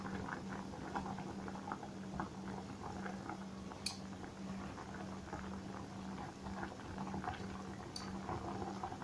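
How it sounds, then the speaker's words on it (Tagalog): Water boils steadily in a pot holding eggplant, a constant low bubbling hiss with faint popping, close and alone with no voices. "Magpakulo ka ng tubig, ilagay ang eggplant."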